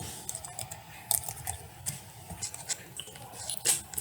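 Quick, light clicks of typing on a computer keyboard come in a short irregular burst, close and fairly quiet, with no talking.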